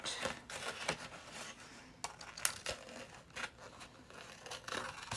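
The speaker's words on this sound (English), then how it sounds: "Fussy cut that out." Scissors fussy cutting a paper angel from heavy cardstock, faint close snips and paper rustles in an irregular run, soft and quiet throughout.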